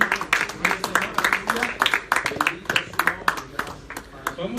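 A church congregation claps in a loose, irregular rhythm of sharp hand strikes throughout, with voices calling out over the applause.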